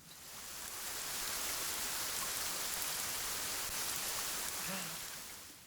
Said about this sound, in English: If you were in your house, sitting right by your window, and the rain was hitting the window pane